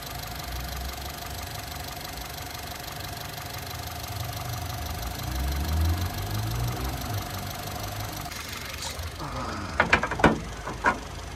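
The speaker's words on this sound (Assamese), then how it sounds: "মই ইঞ্জিনটো ষ্টাৰ্ট কৰি শুনাই দি আছোঁ আপোনালোকক" A Honda Amaze VX petrol car engine idles with a steady low rumble, followed near the end by a few sharp mechanical clicks and knocks.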